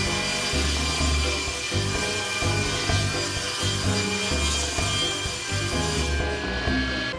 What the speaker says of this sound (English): Next, I can cut the other sheet into strips.